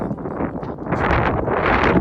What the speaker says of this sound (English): It's windy again, of course. Always windy in this yard.